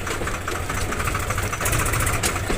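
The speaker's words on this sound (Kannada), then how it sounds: "ನೋಡಿ ಫ್ರೆಂಡ್ಸ್, ಲೋಡ್ ಗಾಡಿ ಯಾವ ಥರ ಹೋಗ್ತಾ ಇದ್ದಾವೆ." Engine of a loaded Swaraj tractor runs with a dense, steady knocking rumble that swells slightly as it passes close by, loud and continuous with no talk.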